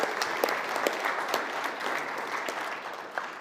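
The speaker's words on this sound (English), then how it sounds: "We get a round of applause." A small audience applauds first-time attendees at a weekly event, a short burst of steady crowd clapping heard alone at moderate distance, holding even for a few seconds with occasional sharper individual claps.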